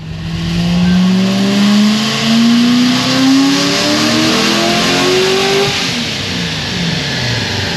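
A supercharged C6 Corvette Z06 roars through a dyno pull, its loud engine climbing steadily in pitch as it revs up under load, then easing off near the end with no talking.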